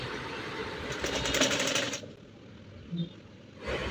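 A sewing machine stitches a child's ruffle frock in a fast, whirring run of needle strokes, then stops briefly and starts again near the end.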